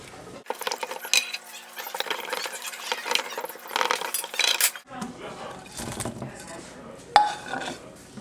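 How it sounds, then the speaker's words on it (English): Chili stirred in a pot with a spoon, clinking and scraping against metal in quick irregular bursts, close and fairly loud, with a sharper knock near the end and some background voice. "Stir it up."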